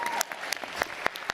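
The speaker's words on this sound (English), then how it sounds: "yeah, round of applause" Sparse, scattered claps from a small crowd greeting boxer Boogie at a pre-fight event, a handful of distinct individual hand claps spread unevenly across a short moment.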